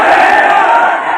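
Women in a political rally crowd at Silvassa shout back together in a loud, sustained roar of many voices, close and dense, with no break across the short burst.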